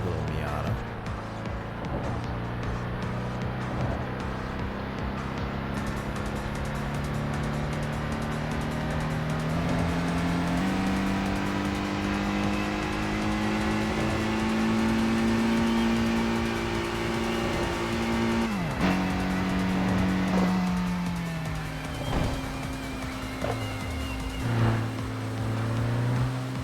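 A Mazda Miata in the video game Tokyo Xtreme Racer drives the Kandabashi C1 Outer Loop expressway, its engine droning loudly and continuously with rising and falling pitch through gear changes.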